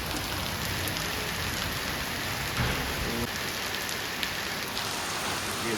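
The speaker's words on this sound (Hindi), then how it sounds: "इधर भी काफ़ी बारिश है" Heavy rain pours down at night in Marchula near Jim Corbett, a dense, steady hiss of drops drumming on surfaces that holds evenly throughout with no talking.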